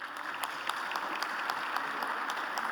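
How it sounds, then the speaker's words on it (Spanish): A conference audience at Congreso Futuro in Valparaíso's National Congress claps steadily, a dense even wash of applause with scattered sharper individual claps throughout. "Un aplauso nuevamente para él."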